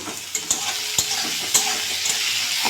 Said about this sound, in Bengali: পেঁয়াজগুলো কিন্তু অনেকটাই ভাজা হয়ে গেছে